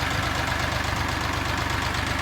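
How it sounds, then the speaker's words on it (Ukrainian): A Scout XT2 tractor engine running in a field while hilling potatoes, a steady close, loud diesel chug with a fast, even low pulsing throb and no pauses. "Тракторець шурує як має бути."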